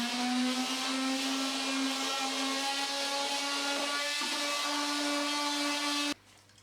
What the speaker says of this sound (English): I'm now just going to give this a light sanding.